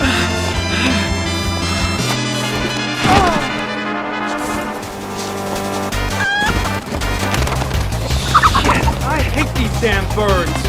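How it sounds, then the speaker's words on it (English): Squawking, gobbling birds fill a Final Fantasy XVI game scene, with repeated harsh calls over a busy mix of crashes, gunfire-like impacts and game music. "Damn birds!"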